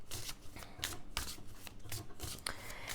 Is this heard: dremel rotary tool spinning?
no